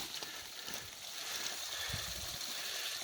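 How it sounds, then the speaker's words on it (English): Spring-fed stream waterfall at night in the outdoors, a faint, steady rushing and trickling of water continuing throughout with no voices. "Get to hear the waterfall at night."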